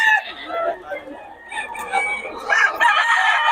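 Chickens and roosters cluck and crow at close range in a busy barnyard, with several birds calling over one another. People talk in the background.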